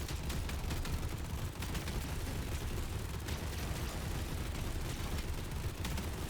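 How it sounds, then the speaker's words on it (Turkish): Continuous machine gun fire in the video game HELLBREAK, a dense unbroken fusillade of rapid shots held at steady loudness throughout, with no pauses and no talking. "Bak hiç sol tıkı bırakmazsam sonsuza kadar mermi sıkıyorum bu arada"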